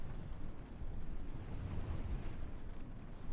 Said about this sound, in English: Perhaps you are only listening to the sea.